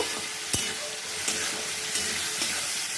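Cumin and chili powder with turmeric fry in a pan for a fish dish, giving a loud, even hiss of sizzling with a handful of sharp spatula taps spaced through it.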